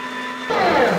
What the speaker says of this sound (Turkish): Tekrar makineyi çalıştırıp ikinci kez çekiyoruz.